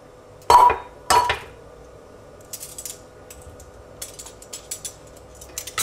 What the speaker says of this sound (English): Just use a knife to stir that together until it forms a dough